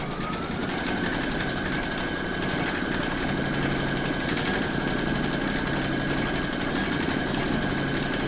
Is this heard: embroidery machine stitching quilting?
yes